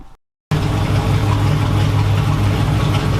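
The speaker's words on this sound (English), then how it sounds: "Got her strapped down, got her idling great" A 6.4 engine strapped down on a dyno, idling steadily after a brief cut: a loud, even, low rumble with a constant drone that carries on without a break, close up and with no talk.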